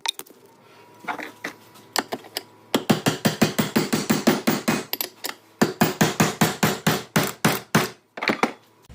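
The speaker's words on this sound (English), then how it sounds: "Pounded it off with the hammer, and it came right off actually." A hammer strikes metal over and over on a Polaris snowmobile CVT clutch in a quick, steady rhythm, loud and close, with a few scattered taps before the pounding settles into a run.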